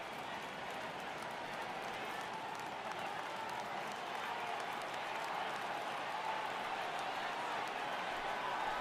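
Large crowd of tens of thousands in a baseball stadium in an MLB video game, a steady broad roar of cheering that holds and swells slightly without a break, with no clear speech on top.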